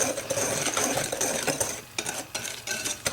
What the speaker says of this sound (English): stir that a little bit more